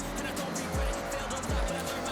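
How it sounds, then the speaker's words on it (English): Racing cars in Forza Horizon 6 sweep through a tunnel, their engine drone echoing steadily, with two distinct rising pass-by swells close together. "God, I love how those cars sound in the tunnels."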